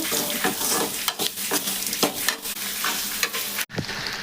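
Urad dal tempering sizzles and crackles steadily in hot oil while a spoon stirs through it, loud and close with no talking.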